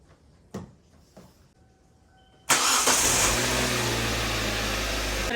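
2008 Kia Sportage engine cranks over after a few clicks and soft knocks, then catches and settles into a steady, loud, close idle hum.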